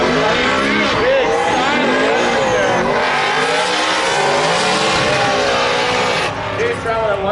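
Three-rotor Mazda MX-5 race car drifting on a track at a drift competition, its loud engine revving hard with tire squeal throughout, under continuous commentator talk.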